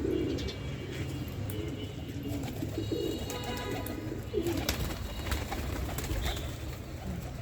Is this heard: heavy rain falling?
no